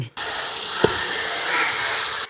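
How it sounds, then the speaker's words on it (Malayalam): Shallots salted and sautéing in a pan give a steady, even hiss of sizzling, with one brief knock partway through. "ഇനി നമ്മുടെ ചെറിയുള്ളിയൊക്കെ നന്നായിട്ടൊന്ന് വഴന്നു വരട്ടെ"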